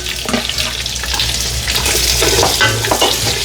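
Onions and green chillies sauté in a pan for biryani, a steady broadband sizzle with occasional scraping stirs and a faint watery hiss, close and continuous, no voices.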